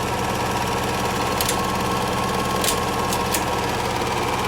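A 1973 Kodak Moviedeck 455 8mm film projector rewinding, giving a steady, close mechanical whir and rattle that holds throughout, with a few brief higher clicks or ticks over the running motor.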